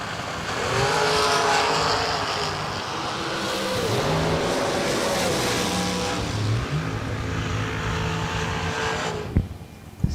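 Drag racing at a season kick-off event: a psychedelic-painted dragster and a roadster roar down the strip side by side, engines droning loud and steady with shifting pitch for most of the clip before cutting off abruptly near the end.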